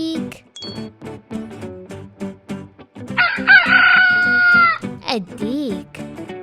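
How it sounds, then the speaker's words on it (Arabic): A rooster crows once, loud and close, with a long sustained call between harmonic voice sounds from a children's farm animal sounds lesson, and speech surrounds it. "أين هو الديك؟"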